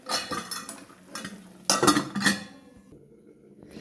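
A metal lid set onto a pot of okra and dried fish curry: a few clattering clinks and scrapes of metal on metal, near and fairly loud, then a quiet hum of cooking.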